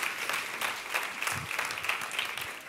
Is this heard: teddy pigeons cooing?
no